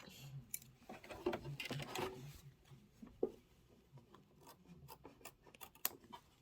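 Scissors trim fabric for a storybook pocket pillow project in a quiet room: a series of soft, close snips and cuts, irregularly spaced, with faint rustling of cloth between them.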